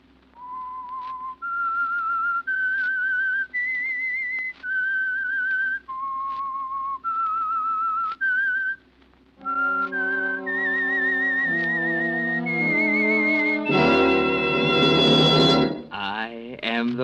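A clear melodic whistle carries a slow tune of sustained notes as a radio show theme, joined near the end by a swelling orchestral chord.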